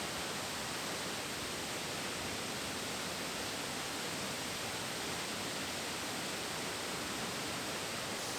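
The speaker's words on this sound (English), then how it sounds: "it has 3 pretty famous waterfalls, starting with the first one where I'm at now" Millaa Millaa Falls in the Atherton Tablelands, heard as a steady, dense broadband roar of falling water, constant and unbroken, with no voices over it.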